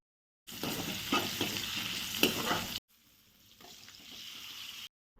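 Onions fry in hot smoking oil with turmeric and salt, a close steady sizzle with stirring scrapes, then a quieter, fainter stretch of frying after a brief cut.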